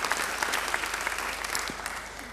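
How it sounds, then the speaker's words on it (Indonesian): A congregation claps during a church sermon, a steady, fairly soft wash of applause from many hands that fades slightly toward the end. "Yang percaya beri tepuk tangan yang baik buat dia"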